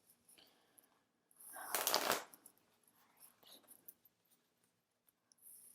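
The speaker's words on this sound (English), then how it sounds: "All right, guys, one more shuffle." One more shuffle of a tarot deck: light card flicks, then a short, dense riffle burst near the middle, close and quiet, followed by faint handling sounds.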